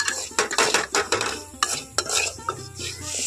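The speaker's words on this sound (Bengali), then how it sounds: "এখন সজনে ডাঁটাটা হালকা করেই কিন্তু ভাজবো" Salted, turmeric-dusted drumstick pieces lightly frying in a pan, a close sizzle under busy stirring with frequent metallic spatula clanks and scrapes.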